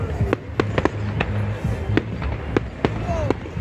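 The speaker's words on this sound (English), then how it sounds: "Come on, watch the rest of the fireworks." Fireworks bursting at a Bonfire Night display in Oxford, a series of sharp cracks and bangs at irregular intervals, some near and loud, over a crowd murmur with voices talking.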